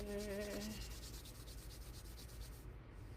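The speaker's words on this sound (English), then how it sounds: "Rub your hands together." Hands rubbing together briskly in a rhythmic, close-up series of soft swishing strokes, fairly faint over a low background hum, with a brief tonal sound at the start.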